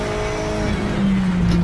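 Race car engine in the Project Cars 3 video game during a four-wheel drift, with steady loud engine drone and a pitch sweep as the car slides, with no talk.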